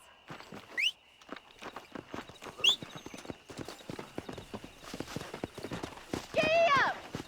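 Horse hooves clip-clop steadily in Red Dead Redemption as the rider sets off at a brisk pace, with a couple of sharp whinnies mixed in, while characters talk over the hoofbeats.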